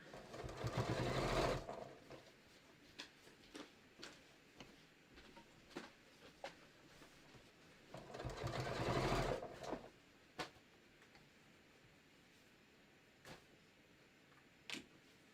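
A sewing machine stitching a quilted batik floppy hat runs in two bursts of steady whirring, separated and followed by scattered light clicks and taps of handling, close and quiet with no talking.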